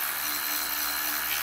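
A cordless battery power driver spins a T30 screw into the front or rear rotor of a Camaro during brake rotor replacement, giving a steady, loud, continuous whirring buzz for the full moment without pauses.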